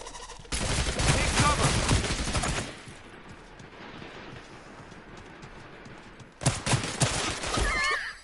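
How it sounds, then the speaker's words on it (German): Gunfire in Realm Royale arrives as two loud, rapid bursts of shots, the first lasting about two seconds and the second about two seconds near the end, with a quieter stretch of faint background noise between them. "Da schießen Leute."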